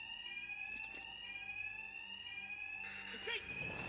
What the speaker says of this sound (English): thugs won't hear me over the alarm